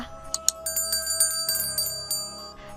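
Notification bell sound effect, a bright chiming ring struck repeatedly in quick succession, with sustained metallic tones layered under the strikes for a few seconds.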